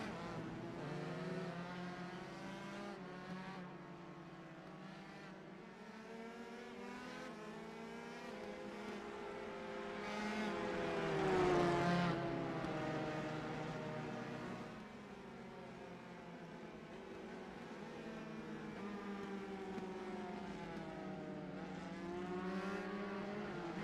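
Open-wheel race car engines drone steadily in the iRacing game at Barber Motorsports Park as cars cross the finish line, with overlapping engine notes swelling as one passes near the middle, then settling back to a continuous hum.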